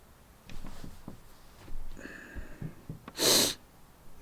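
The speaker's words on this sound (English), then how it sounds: "Sorry about my sniffles there." Person sniffling during a live telescope observing session of Jupiter and Saturn: soft nasal breaths through the first seconds, then one sharp, loud snorting inhale near the end, heard close and alone.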